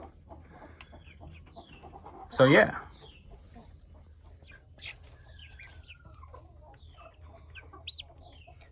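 Naked neck chickens cluck in a backyard flock, one loud burst of squawking close by, then scattered softer clucks and calls while someone speaks briefly.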